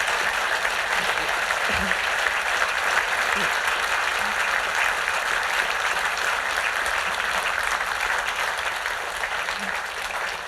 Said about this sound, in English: I'm just taking that applause was for the last question, right?